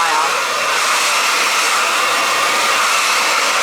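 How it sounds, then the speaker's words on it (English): A normal handheld hair dryer blows steadily while drying long hair, a loud, close, continuous airy whoosh with no breaks across the whole stretch. "Just with a normal hair dryer."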